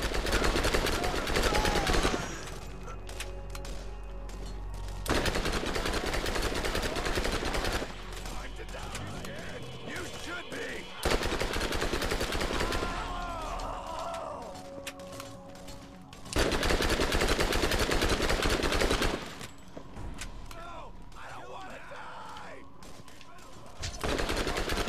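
Heavy automatic gunfire in the looter shooter Borderlands 3, loud sustained bursts lasting several seconds each, separated by quieter stretches of game sound and voices.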